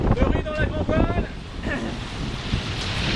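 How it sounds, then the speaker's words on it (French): Strong wind above 30 knots roars across a Lagoon 380 catamaran sailing in squalls near Tobago, a steady buffeting rush over the microphone with sea noise beneath and a voice briefly audible. "Quelques grains, plus de 30 nœuds de vent"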